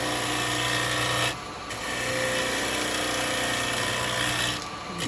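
A wood lathe spins a piece of wet wood while a cutting tool takes a steady, hissing cut. The sound breaks off briefly twice as the tool lifts away, and the machine keeps a constant hum underneath.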